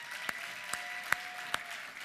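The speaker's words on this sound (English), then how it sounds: "Ladies and gentlemen, a warm round of applause for our final speaker of the SAM event, Mr. Kevin Rogers." Steady applause from an audience at a SAM event, filling the room with a dense, continuous patter of clapping punctuated by a few sharper individual claps.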